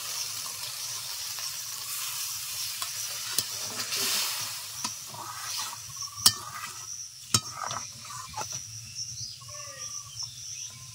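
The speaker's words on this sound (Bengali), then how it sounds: "এখন একটু জল দিয়ে দিচ্ছি।" A pan of Bengali doi potol curry, pointed gourd in a yogurt gravy, sizzles and hisses steadily after water is added, with occasional sharp clinks of a spoon stirring against the pan.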